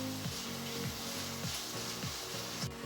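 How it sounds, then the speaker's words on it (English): Chopped onions and tomato are sautéed together with curry leaves in a pan, giving a steady frying sizzle beneath a repeating low scraping rhythm of a spoon stirring about every half second. "2 medium finely chopped onions, and 1 large finely chopped tomato, and saute this all together."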